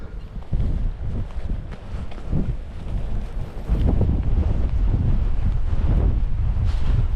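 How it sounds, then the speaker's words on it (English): Strong wind gusts buffet the microphone on a coastal hiking trail along the Cleveland Way between Saltburn and Scarborough, roaring louder and fuller partway through, with a faint sea-like wash beneath. "Wind's picking up again."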